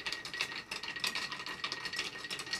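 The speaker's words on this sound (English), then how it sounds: "stir. Stir. Stir. Until it's nice and cold." An amanatsu citrus drink stirred with ice until cold, a continuous quick rattling and clinking of ice against the glass, fairly close and even in rhythm, with no talking.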